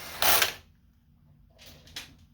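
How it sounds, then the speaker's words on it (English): Screws being driven into the metal plate of a PS5 during an HDMI port repair, heard as two short bursts of close mechanical creaking and ratcheting, a loud one early and a softer one near the end, with quiet gaps between. "We'll put 4 screws in, so one right next to the HDMI port."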